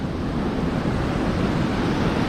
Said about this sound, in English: I thought I saw big waves yesterday from my hotel, but these ones, they're so huge.